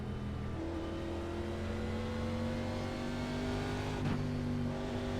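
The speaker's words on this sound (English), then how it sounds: "I can hear the engines right now" NASCAR Cup race car engines in the iRacing sim, a steady droning roar with sustained engine tones holding throughout, a brief louder pass or shift near the end, no talking.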